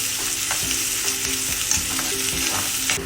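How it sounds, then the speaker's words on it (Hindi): Green chillies and ginger fry in a pan for brinjal bharta, a loud, continuous close sizzle broken by rhythmic scraping stirs. "देन हरी मिर्ची, जिंजर, इसको 1 मिनट तक हम भूनेंगे।"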